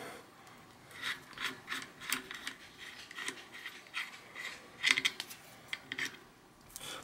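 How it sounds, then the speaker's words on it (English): A 15 mm cone wrench works a lock nut loose on a sticky bicycle freehub, giving faint close clicks, metallic rubbing and small ratcheting scrapes in irregular bursts. "This is a 15 millimeter cone wrench, and I'm gonna remove this lock nut here."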